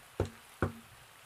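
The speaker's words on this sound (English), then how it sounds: "3 hard knocks on the wooden door." Two sharp, hard knocks land on a wooden door about half a second apart, close and distinct against a quiet background.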